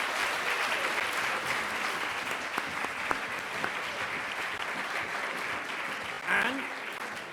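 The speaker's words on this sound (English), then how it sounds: "Again, a round of applause." Sustained applause from an audience at an LSE election night event in 2019, a dense, even clapping that carries on for several seconds with a brief louder swell near the end.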